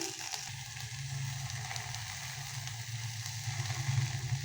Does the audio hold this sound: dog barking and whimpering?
no